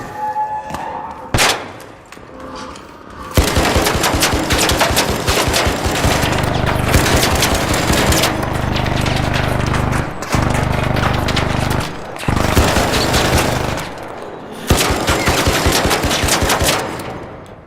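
Loud bursts of automatic gunfire from the video game Arc Raiders, long sustained volleys separated by short gaps, with a couple of single sharp shots before the first burst and no talk over it.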